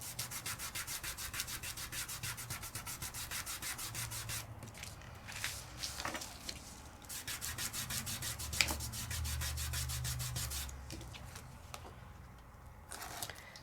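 Rubbing across a Studio Light layering stencil laid with microfine glitter to burnish it: a close, rapid, scratchy back-and-forth scrubbing with brief pauses and soft taps.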